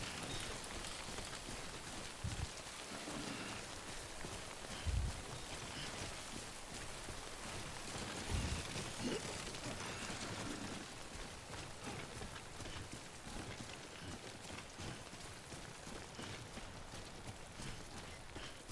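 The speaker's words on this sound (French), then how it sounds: "attention pluie" Steady rain falls in the video game Death Stranding 2, a faint, even hiss of drops pattering on surfaces, broken by a few soft low thumps, with no talking.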